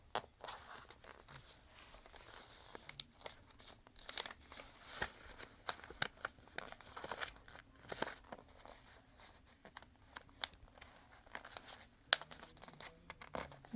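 Paper is creased and pressed hard while being folded into a paper airplane, faint close-up rustles and crinkles with soft scratchy rubs.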